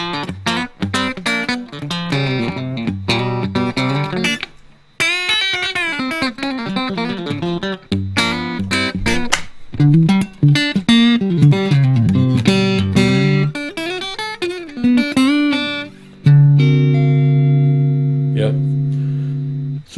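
Electric guitar played through an Amplitube 4 amp with the decompressor effect, a busy run of picked notes and chords, then a sustained held note ringing out at the end.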